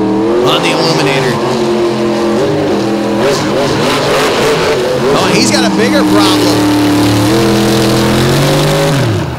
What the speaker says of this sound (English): You can hear the RPMs coming up.